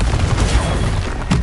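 Spell blasts in the Hogwarts Legacy video game crack out in a rapid, dense volley of loud explosive bursts, one big impact landing near the end.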